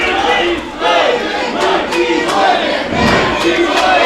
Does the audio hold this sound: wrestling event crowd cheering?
yes